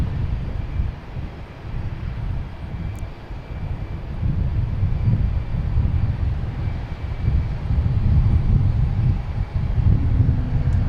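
JetBlue Airbus A320 airliner departing Boston Logan Airport for Santo Domingo, a steady low engine roar with rumbling wind-buffeted noise that swells slightly toward the end, heard from a distance with no talk.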